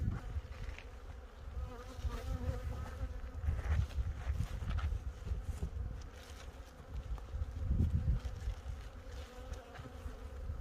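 Honeybees buzz densely around a beehive, a continuous low droning swarm hum that swells and fades slightly, close and steady with no talk.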